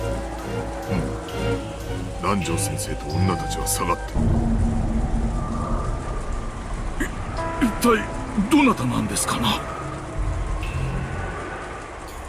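Wind and rain storm outside, a steady wash of rain under Japanese voice acting, with a few louder gusts or thumps midway.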